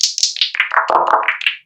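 Synthesized clap sounds from a Modor drum machine, about ten crisp, quick hits in a steady run whose pitch sweeps down and back up again, close and clean with nothing behind them.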